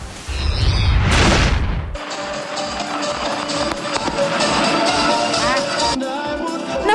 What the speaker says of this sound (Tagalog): Napuno ang kalangitan ng makukulay ng fireworks